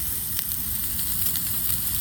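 Beef sizzles in a pan at a rainy campsite, a steady close hiss with faint crackles and pops that holds evenly for two seconds, with no voices over it.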